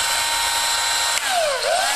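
A cordless battery drill runs from a 12-volt power supply, a loud steady high whine close by, briefly dipping in pitch as the motor slows and then speeds up again.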